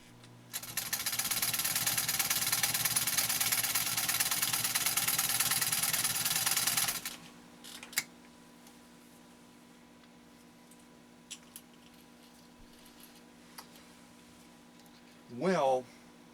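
A restored 1949 Singer 66-8 sewing machine stitching at about 10 to 12 stitches per inch, running in one fast, steady, loud mechanical burst of roughly six seconds. Quiet follows with a few small clicks and a brief voice near the end.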